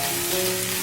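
Scallions and minced garlic stir-fry in oil in a pan over medium-low heat, giving a close, steady, even sizzle with no voices.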